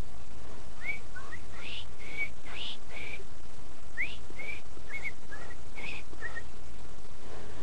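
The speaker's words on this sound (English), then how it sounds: "Do you hear the bird all of a sudden starting singing at 4 in the morning?" A bird sings early at 4 a.m. with a series of short, bright whistled chirps spaced through the stretch. The song is faint to moderate over a low, steady background hum, with no talk.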